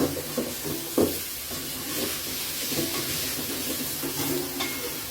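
A spoon stirs black beans and pork ribs in a pot, giving a few clunks and knocks against the side over a constant gentle sizzle and hiss of steam, close and fairly quiet.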